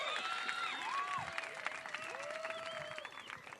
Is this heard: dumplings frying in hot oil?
no